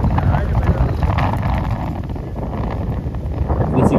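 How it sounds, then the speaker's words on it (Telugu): Strong wind buffets the microphone at a dam viewpoint among hills, producing a steady, loud low rumble that continues throughout with no clear voices. "గాలి మాత్రం బీభత్సంగా వస్తుంది"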